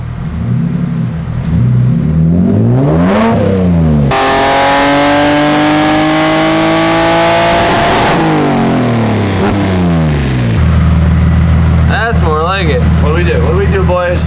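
An M3-engine-swapped BMW E30 revs hard on a dyno during a tuning pull, its loud engine note sweeping up and down through several sustained, rising and falling pitches, with voices talking over the roar.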